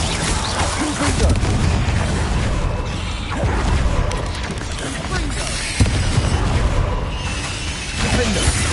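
Fire spell explosions in Hogwarts Legacy, dense booming blasts layered over game effects, loud and continuous with a sharper burst midway.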